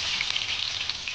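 Chicken kebab pieces frying and dry roasting in a pan over high flame, a steady close crackling sizzle with small pops throughout, no voices.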